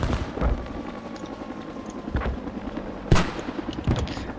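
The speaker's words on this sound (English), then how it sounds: "They're using the mortar to shoot" Mortar fire in a tactical military video game, a few heavy booming shots and thumps spaced irregularly over distant rumbling battle noise, with no talking.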